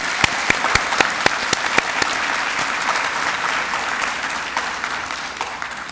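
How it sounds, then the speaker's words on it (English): Sustained audience applause at a graduation ceremony, dense steady clapping with a few sharp, close individual claps standing out over several seconds. "So let's give them a huge round of applause."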